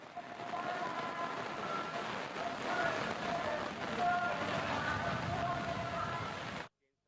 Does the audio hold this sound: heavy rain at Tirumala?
yes